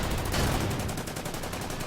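Rapid gunfire at a T-34 tank in the war strategy game Order of Battle comes as a dense, continuous burst of cracking shots, loud and close, with no talking.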